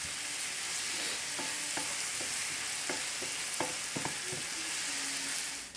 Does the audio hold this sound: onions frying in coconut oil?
yes